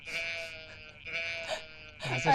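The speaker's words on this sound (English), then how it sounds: "what about a sheep, which is a very cute little animal?" Sheep bleats repeat in wavering, nasal cries, close and fairly loud, with a brief burst of other noise at the end.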